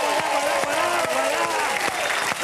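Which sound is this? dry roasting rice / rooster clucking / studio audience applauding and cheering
studio audience applauding and cheering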